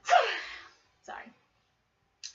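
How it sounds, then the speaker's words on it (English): A single sharp sneeze bursts out loudly with a breathy decaying tail, followed by a quieter snort-like breath and a faint trailing sound. "I hope that was a very dainty sneeze"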